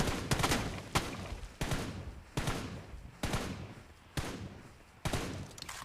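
Gunfire in the PUBG Mobile video game, with sharp bursts of rapid shots repeating roughly every second, loud and close, with no voices.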